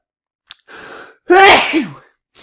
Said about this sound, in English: Mid podcast, I get to sneeze